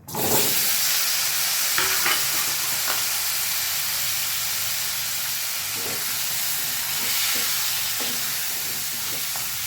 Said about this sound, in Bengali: এই পটলটা আমি এবারে কড়াইতে দিয়ে দেবো